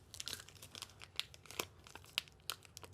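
Someone struggling to open a plastic package, quiet close crinkling and crackling of plastic in irregular bursts with sharp snaps, no speech.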